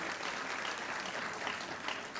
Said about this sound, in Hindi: एक बार अनुरोध करूंगी कि माननीय के लिए जोरदार तालियां बजा के आपका आभार व्यक्त करें।